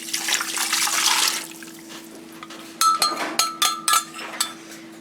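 Beef broth pours into a pressure cooker, a liquid splash lasting about a second and a half, then fading to a faint trickle before a few short clattering knocks.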